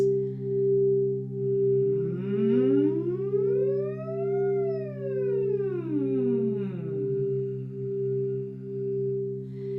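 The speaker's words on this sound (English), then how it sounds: "Sometimes I'll just play the bowls and do something like this." Crystal singing bowls hold steady, layered ringing tones while a voice slowly glides up and then back down in a smooth siren-like sweep.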